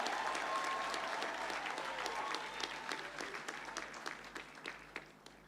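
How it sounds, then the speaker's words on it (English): Graduation ceremony audience applauding in a large hall, a dense wash of clapping that starts full and gradually thins into scattered claps as it dies away. "Kindly give a round of applause to yourselves as we begin this conferment of degrees."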